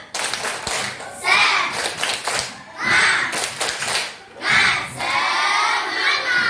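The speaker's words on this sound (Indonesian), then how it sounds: "Coba kita tepuk semangat dulu. Tepuk semangat." A school class performs a rhythmic clapping chant, tepuk semangat, in bursts of group clapping and children's voices that rise and pause in a quick patterned rhythm, loud and close in a classroom.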